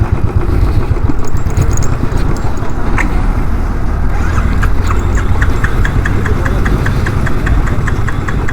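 A Royal Enfield 350 BS6 motorcycle engine runs close by, a loud, steady thumping idle with a rhythmic knocking pulse throughout.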